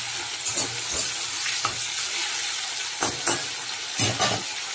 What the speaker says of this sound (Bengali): আমি এবারে চিংড়ি মাছটা ভেজে নেব। চিংড়ি মাছটা দিয়ে দিলাম কড়াতে।